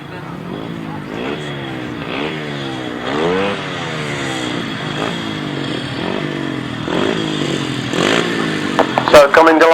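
Grasstrack racing motorcycles idle and rev as they roll up to the start line, engine note rising and falling in repeated waves, partly under a loudspeaker commentator talking.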